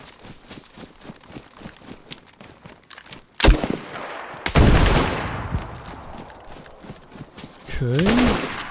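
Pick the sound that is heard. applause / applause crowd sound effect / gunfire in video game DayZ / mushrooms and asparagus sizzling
gunfire in video game DayZ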